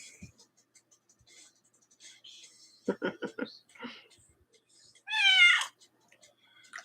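A cat meows and chirps in short bursts, a quick run of small sounds followed by one louder, clear meow near the end, with quiet scratching and faint whispery talk around it.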